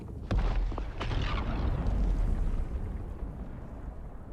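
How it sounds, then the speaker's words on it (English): A small in-game explosion in Dune: Awakening, where the blast kicks up sand: a sharp boom near the start, then a second burst, followed by a sustained low rumble that slowly fades. "that little explosion there will cause some"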